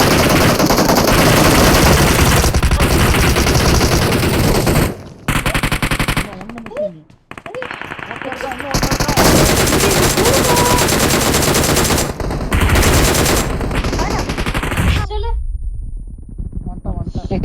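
Loud, sustained automatic gunfire in the Free Fire mobile battle game, with rapid bursts firing almost continuously and brief pauses, while players talk over the shooting.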